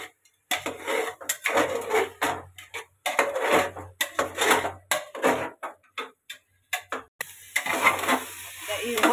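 Rice for chicken biryani is stirred in a pot with a spoon: rhythmic scraping strokes come in regular bursts separated by short pauses, close and moderately loud.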